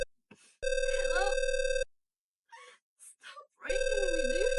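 A telephone rings in long loud electronic bursts, two rings separated by a pause filled with a person's gasps and anguished vocal sounds, with a voice also heard over the ringing.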